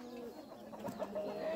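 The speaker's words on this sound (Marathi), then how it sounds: "ह्या आपल्याकडे ब्लॅक ॲस्ट्रोलाबच्या कोंबड्या आहेत" Black Australorp hens on a poultry farm give soft, close clucks and a few brief calls over a low, steady barnyard hum.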